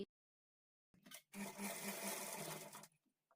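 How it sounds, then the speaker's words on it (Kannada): Sewing machine stitching a hemming strip on a lining blouse, a quiet click before one steady run of needle noise lasting over a second, close by. "ಕಾಲು ಇಂಚ್ ಮಾರ್ಜಿನ್ಗೆ ನಾವು ಸ್ಟಿಚ್ ಮಾಡ್ಕೊಳ್ಬೇಕು"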